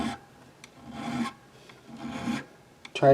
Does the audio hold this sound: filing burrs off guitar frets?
yes